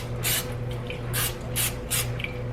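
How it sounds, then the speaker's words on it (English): Nonstick cooking spray hisses into a baking pan for cinnamon rolls in four short, close bursts, with brief quiet gaps between them. "I need to put some nonstick spray in it."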